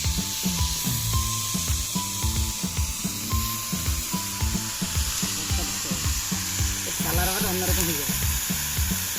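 Chikni shak greens sizzle and fry in a pan with potato and eggplant, a steady close crackle with rhythmic stirring scrapes and faint clatter throughout.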